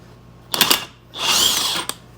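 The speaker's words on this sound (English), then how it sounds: "So I'm going to run the impact now on the nut over here." An impact wrench on a Ford brake drum nut, fired close in two short loud bursts, a quick rattle followed by a longer whirring run, with quiet gaps between.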